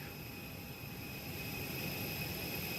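Airliner jet engines from an X-Plane flight simulator sound pack hum steadily, a continuous whine and broadband roar at moderate level with no talking.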